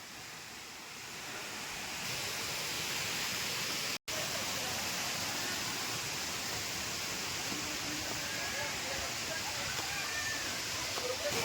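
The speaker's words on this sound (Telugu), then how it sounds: "వాటర్ ఫాల్స్ దగ్గరికి వచ్చేసాం వాళ్ళందరూ వాటర్ ఫాల్స్ని ఎంజాయ్ చేస్తున్నారు" Boddugudem waterfalls pour in a steady, loud, broadband rush of falling water that fills the scene without letup, with one momentary dropout near the start.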